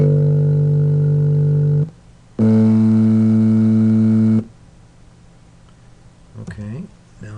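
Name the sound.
three piano notes C1, G1 and A2 played in turn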